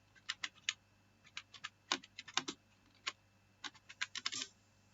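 Someone types on a computer keyboard in irregular bursts of crisp, close key clicks with short pauses between words, and no one speaks.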